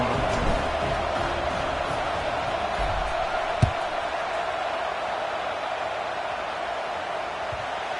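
Steady murmur of a large football stadium crowd waiting before a kickoff, a broad continuous wash of voices with a brief thump partway through, subdued rather than cheering.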